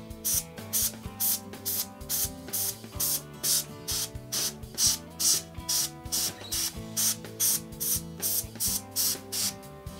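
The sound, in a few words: duster blowing short bursts of air on projector filter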